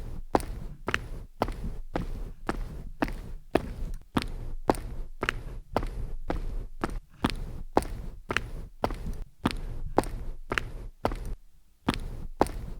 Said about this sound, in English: Let's take a listen to the difference between the mono and stereo footstep recordings.